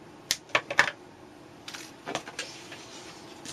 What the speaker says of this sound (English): using my nippers again. I'm going to cut it.